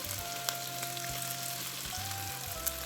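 Chicken sizzles and fries steadily in a pan as capsicum and other vegetables go in, a loud continuous crackle with occasional stirring knocks.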